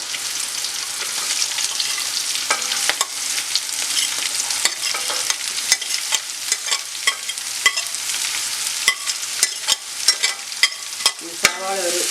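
Four chopped onions sizzle steadily in a pan with garlic and green chillies for a Malabar mutton curry, stirred with sharp utensil scrapes and taps scattered through the continuous frying hiss.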